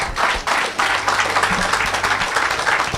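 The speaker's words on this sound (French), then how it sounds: "Acclamez plus fort que ça." A congregation at a religious gathering bursts into loud, sustained applause, a dense wash of many hands clapping together for several seconds, close and full with no speech.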